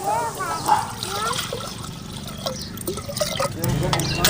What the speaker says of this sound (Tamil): ஒரு அரை லிட்டர் தண்ணி